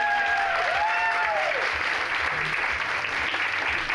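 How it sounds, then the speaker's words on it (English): An audience at an annual empowerment gala claps steadily for several seconds, dense and fairly loud, while a faint tone drifts and rings early on. "Can everyone give an applause for Nicole, please?"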